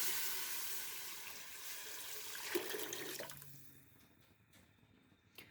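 Roughly 1.5 liters of water poured into a pot of chicken for hot and sour soup, a broad splashing pour that fades after a few seconds, followed by a few faint drips.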